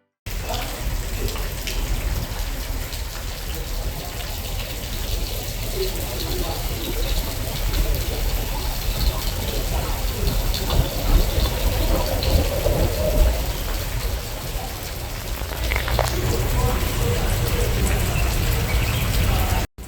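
Running water in the distance, picked up through a Galaxy Note 10+ phone's zoom audio, a steady, moderately loud wash that grows somewhat fuller toward the end.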